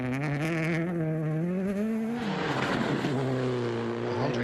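A Citroën DS3 R3T rally car on an Acropolis Rally stage, its engine screaming loud and close as it revs through a gear change, then roaring past with a broad, rasping note.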